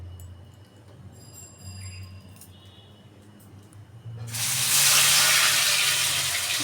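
Pumpkin leaves dropped into hot oil in a wok burst into a loud, sustained sizzle partway through, after a quieter stretch of faint kitchen clinks and low hum.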